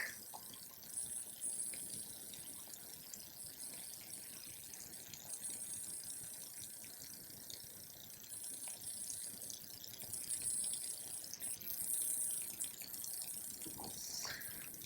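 Two-part polyurethane concrete repair resin (part A) pours steadily into a container for several seconds, a soft continuous trickle with faint rattles, no voices.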